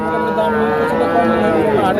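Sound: calves mooing at cattle market

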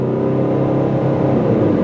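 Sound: 2002 Chrysler PT Cruiser driving

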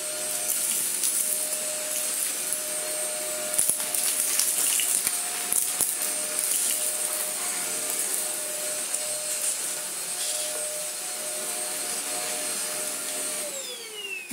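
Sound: iLife Easine G50 cordless vacuum cleaner running on hard floor

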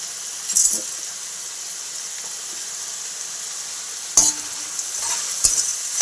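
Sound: stirring prawn curry with cucumber, tomato and chillies in pan

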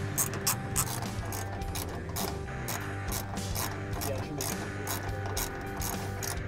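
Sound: socket wrench ratcheting bolts installing Kawasaki KRX seat brackets

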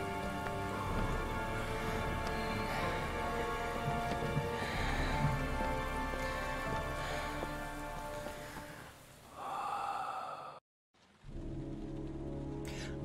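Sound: rain in the video game Heavy Rain

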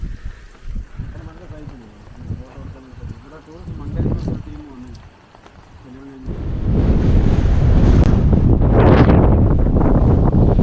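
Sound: wind blowing

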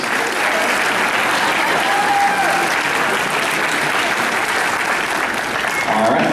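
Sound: applause

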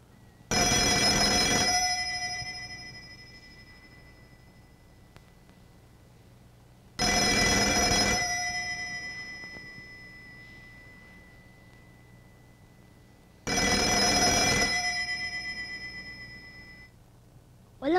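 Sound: telephone ringing unanswered, from a film

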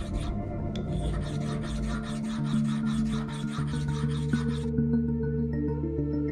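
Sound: grinding an onyx cup with natural grit stone

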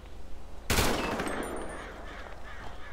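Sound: gunshots in the video game GTA 5

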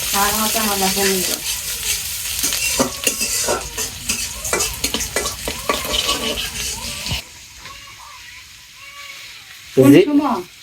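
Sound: cumin frying in hot oil

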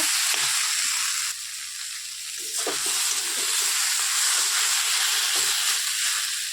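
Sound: water added to frying potato curry, sizzling

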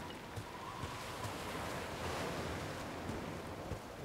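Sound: wind in video game Might and Magic X

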